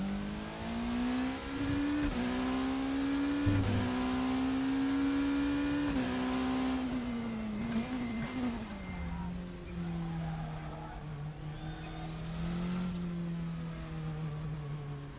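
Race car in the RaceRoom video game, its engine whining steadily through the gears with rising and falling pitch and occasional tyre scrub, loud and continuous with a voice talking faintly underneath.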